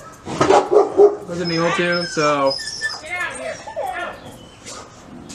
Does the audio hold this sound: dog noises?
yes